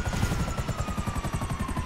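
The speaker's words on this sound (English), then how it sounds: "I've killed another helicopter." A helicopter in GTA 5 Online thrums with steady, rapid rotor beats, loud and close, running unbroken with no talk over it.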